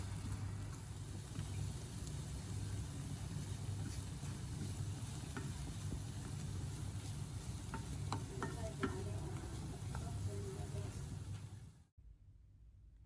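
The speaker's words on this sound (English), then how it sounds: "Coat the pan with olive oil, add the mixture, and stir like how you do scrambled eggs." An egg and oats mixture cooks in an olive-oiled pan, stirred like scrambled eggs, giving a continuous sizzle with scraping and tapping of the utensil for about twelve seconds before it cuts off abruptly.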